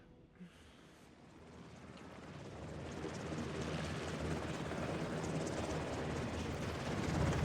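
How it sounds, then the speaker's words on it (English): Helicopters in the video game 007 First Light make a loud, steady rotor and engine roar that slowly builds and fills the scene. "Man, these helicopters are fucking loud."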